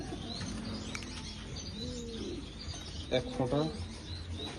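A pigeon held in someone's hands for medicine drops coos and flutters close by, its soft calls mixed with chirps while a person talks over it.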